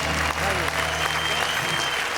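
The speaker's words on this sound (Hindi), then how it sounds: "इस स्टूडियो में बजती हुई तालियां" A studio audience at a Hindi stand-up comedy and poetry show claps continuously, a dense, loud wash of applause from start to finish with no pauses.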